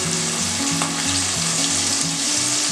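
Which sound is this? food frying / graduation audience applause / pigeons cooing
food frying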